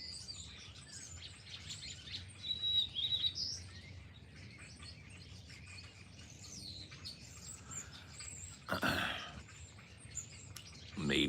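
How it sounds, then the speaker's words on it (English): A flock of birds chirps and tweets from the surrounding trees, many overlapping calls at moderate distance, with a louder burst of calls and fluttering near the end. "They're everywhere. They're in every tree."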